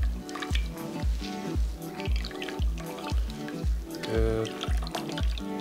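Water drips steadily from a cloth being wrung out, in close, rhythmic drops about twice a second, with one brief spoken word.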